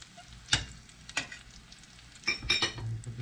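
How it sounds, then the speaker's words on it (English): Catfish pieces sizzling as they fry in a pan, a steady crackling hiss broken by a few sharp scrapes and clinks as the fish is moved around. "look at that sizzle"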